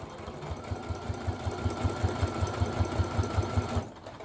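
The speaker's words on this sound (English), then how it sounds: "I want you to backstitch like twice and then continue going." Sewing machine stitching and backstitching through bulky layers of a fabric wallet, a fast even mechanical hum with rapid regular thumps that stops abruptly near the end, close and steady with no talk.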